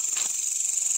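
A loud, steady high-pitched insect drone fills a brief outdoor moment, continuous and close, with no voices.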